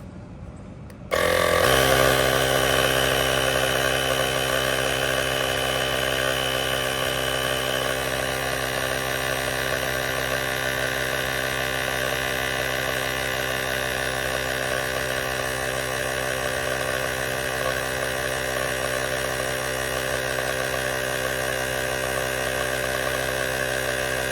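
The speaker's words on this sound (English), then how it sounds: "The pump is rather quick" AstroAI 3-in-1 portable air pump inflating a front car tire runs as a loud, steady droning motor hum with buzzy harmonics, starting abruptly and continuing evenly for over twenty seconds with no talking.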